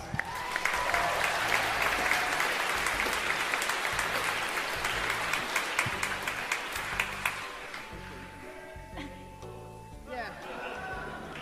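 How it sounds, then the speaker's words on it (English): Audience applause at a live stage event, a dense burst of clapping from the crowd that starts loud and slowly thins out, with voices and background music carrying over it toward the end. "Give her a round of applause."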